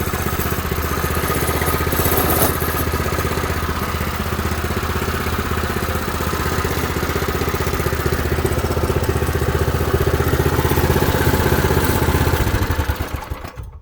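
Predator 212 small engine on a Baja Doodlebug minibike with stock exhaust, idling and running loud and close with steady mechanical clatter, then cutting off at the end.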